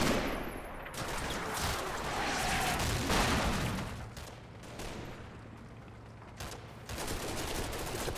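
Infantry sections firing on a vegetable patch before a farmhouse in the Combat Mission wargame, a dense, fairly faint rattle of rifle and machine-gun fire with scattered sharper cracks throughout.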